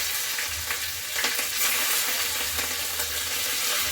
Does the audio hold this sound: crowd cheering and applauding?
no